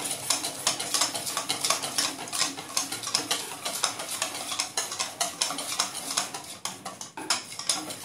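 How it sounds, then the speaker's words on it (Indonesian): Cocoa powder melted in milk is stirred until smooth, making a near, continuous rhythm of utensil scrapes and light clinks against the container, with no voices. "Oke, ini kita aduk sampai dia halus ya."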